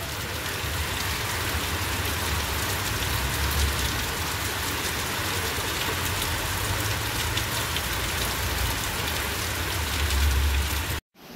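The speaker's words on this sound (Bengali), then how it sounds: "আবার জোরে বৃষ্টি আরম্ভ হলো এখানে।" Heavy rain pours steadily onto surfaces nearby, a dense, constant roar of drumming drops that holds at the same loud level until it cuts off abruptly.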